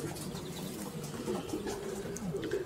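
A racing pigeon coos close by in soft, low, repeated throaty calls under steady background noise, with faint higher chirps from other birds.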